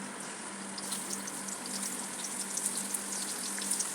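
Fish sizzles in hot coconut oil in a home kitchen pan, a steady, even crackling hiss with faint popping spatters throughout and no talk.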